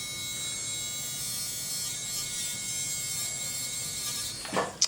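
A steady rotary whir from a dental polishing tool working on a hand-polished veneer, running evenly and fairly quietly throughout, with a couple of brief louder scrapes right at the end.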